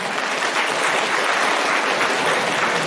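Steady, dense applause from a large audience at an agricultural university farmers' welfare event, loud and continuous throughout with no voices.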